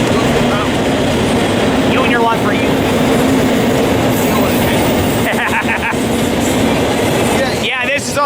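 A Union Pacific container freight train rumbles past steadily near Barstow, California, with a loud continuous roll and occasional wheel squeals, while people talk nearby.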